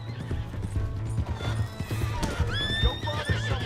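A horse in the video game Red Dead Redemption whinnies loudly while its hooves clop in a steady rhythm underneath, with a rising neigh standing out near the end amid game ambience.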